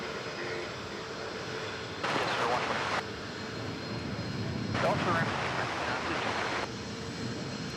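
An American Airlines Airbus A321neo jet at DFW Airport gives a steady, distant engine roar with broadband rushing noise, swelling in two louder stretches over continuous background hum.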